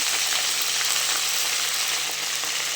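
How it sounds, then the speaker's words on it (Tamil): Mustard seeds, fenugreek and curry leaves frying in hot oil for a garlic kulambu, giving a steady, dense sizzle that holds evenly throughout without any speech. "கடுகு, வெந்தயம்லாம் போட்டதுக்கப்புறம் அது பொரிஞ்சு வர வரைக்கும் வெயிட் பண்ண வேண்டியதில்லை"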